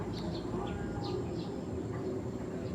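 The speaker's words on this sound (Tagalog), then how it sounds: "Makita mo yung mga ibon, nagliliparan." Faint, distant birds in flight calling with short chirps scattered across a steady low outdoor rumble on a rural afternoon.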